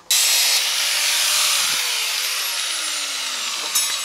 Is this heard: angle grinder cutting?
yes